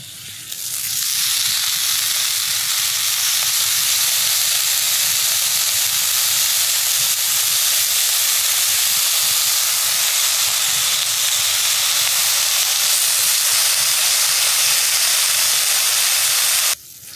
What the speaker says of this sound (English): So I'm going to put a few pieces of streaky bacon down.